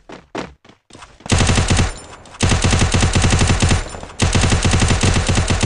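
Gunfire in the mobile battle royale game Garena Free Fire: a few single shots, then loud sustained rapid automatic bursts in three long strings separated by short pauses.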